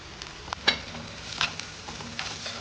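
A quiet, faint sizzle as turmeric, chili, pepper and onions are sautéed in a pan, with a few light clinks of a spoon against the pan; no talk.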